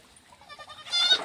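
Young goat kids bleating beside a well, several short wavering calls that rise and grow louder toward the end, fairly close with faint background noise.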